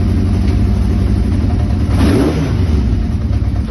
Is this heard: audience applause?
no